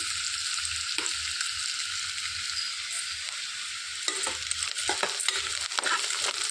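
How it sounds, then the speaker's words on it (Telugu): Chopped onions fry in a pan for Andhra-style brinjal pulusu, giving a steady, bright frying hiss with occasional small pops and stirring scrapes, close and even throughout. "ఉల్లిపాయలు మంచి రంగు వచ్చే వరకు వేయించేసుకోవాలి."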